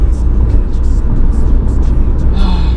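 Steady engine and road rumble from inside a moving car, either a naturally aspirated rear-wheel-drive Subaru BRZ or a front-wheel-drive Renault Mégane RS 250 Cup, loud and continuous with faint higher noises on top.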